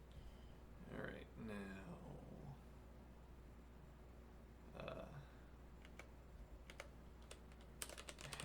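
Clicky computer keyboard typing, soft and intermittent, with a few sharper key taps near the end, between stretches of indistinct voice.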